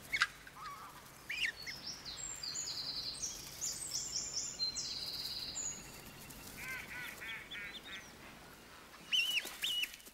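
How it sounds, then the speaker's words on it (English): Egyptian geese call at a German reservoir with repeated harsh honking and cackling bursts over a steady outdoor background, moderately near and scattered across the whole stretch. "Egyptian geese are now a common sight at reservoirs."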